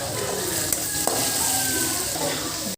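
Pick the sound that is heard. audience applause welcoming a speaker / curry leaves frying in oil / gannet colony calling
curry leaves frying in oil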